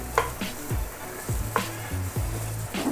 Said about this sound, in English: then start to fry it around